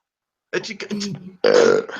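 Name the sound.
burp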